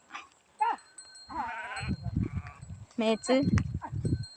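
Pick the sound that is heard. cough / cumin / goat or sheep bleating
goat or sheep bleating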